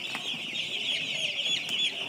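Chickens and chicks on a poultry farm in winter, a steady dense chorus of high peeping and clucking that carries on without a break, close and fairly loud.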